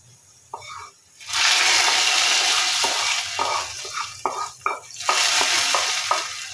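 Fried onion tempering poured onto masoor dal cooked with drumsticks erupts into a loud, sustained sizzle, with clinks of a spoon and stirring knocks breaking through the hiss.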